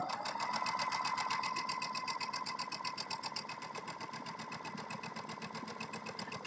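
A sewing machine runs a seam on a kitchen apron, its needle chattering in a fast, even rhythm that stays close and continuous, easing slightly in loudness toward the end.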